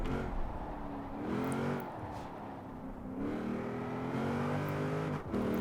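A car in Forza Horizon 4 drives and revs, its engine tone climbing and falling in several sweeping pulls, close and steady, with a brief dip near the end.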